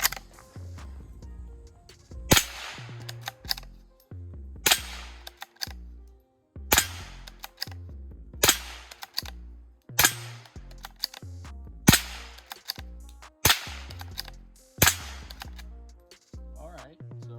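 A Mossberg International 802 Plinkster bolt-action rifle fires about eight sharp shots at a steady pace roughly two seconds apart, each crack followed by mechanical clatter and low handling noise in between.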